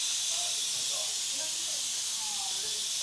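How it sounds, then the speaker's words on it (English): Steam vents steadily from a pressure cooker used to cook shredded Cajun chicken, a loud continuous high hiss that lasts throughout. "let it vent, because you want to let the pressure come out of the cooker"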